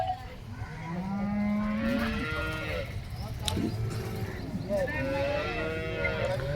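Several cows moo in long, low calls, one after another, at the Loni cattle market, over a steady crowded background hum with faint voices.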